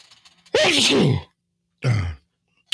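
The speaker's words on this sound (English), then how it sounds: "I go from coughing to sneezing." Two explosive, breathy bursts in quick succession, a loud sneeze-like blast followed by a shorter second one, close to the microphone.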